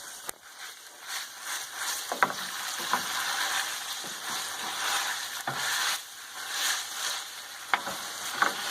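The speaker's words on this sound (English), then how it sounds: "I stir it around" Ground meat fries in a pan over a low flame, a steady close sizzle broken by repeated scraping stirs and light clinks of the utensil against the pan.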